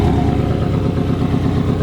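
A Porsche Cayman 718 GTS 2.5 with its sport exhaust switched on runs with a loud, continuous throaty engine rumble, steady and close with no talking over it.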